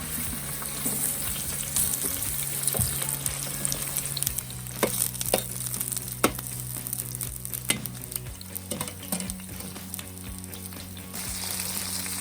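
Sausage, red onion and mushrooms fry together in a large paella pan, a steady close sizzle with crackling pops and occasional stirring scrapes, no voices.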